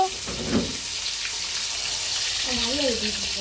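Potatoes sizzle steadily in hot oil with a continuous crackling hiss, and a brief faint voice-like sound near the end.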